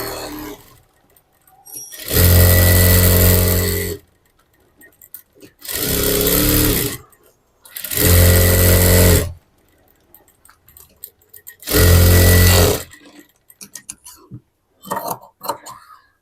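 A sewing machine stitches the side seams of a blouse in four loud, steady runs of roughly one to two seconds each, separated by quiet pauses with faint handling noise.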